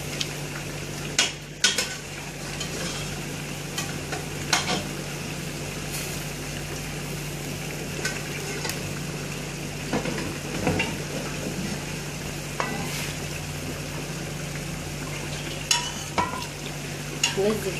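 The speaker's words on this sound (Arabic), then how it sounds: "ودلوقتي خلاص هنبدأ ننزل اللحمة اللي انا سلقاها" Boiled meat being stirred and fried in a pot with its broth, a continuous sizzle broken by repeated scrapes and clinks of a utensil against the pot, close and steady throughout.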